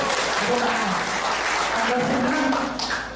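A crowd at a political rally in Banyuwangi claps steadily and densely for about three seconds, with voices and cheers mixed through the dense noise and a faint tonal sound near the end.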